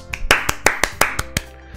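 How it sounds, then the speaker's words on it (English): A short applause sound effect from the video game Doki Doki Literature Club: a handful of crisp, separate claps in a quick, even rhythm over soft background music. "The four of us applaud."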